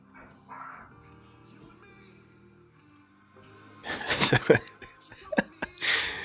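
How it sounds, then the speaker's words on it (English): Pet cats growl and hiss as they play in the background, starting as a faint low rumble and then turning into several loud, harsh hissing bursts near the end. "If you hear growling, hissing, all that stuff in the background, cats are having fun playing."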